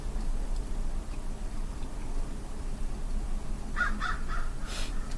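A crow cawing outdoors, a few short harsh calls near the end heard faintly over a steady background hiss.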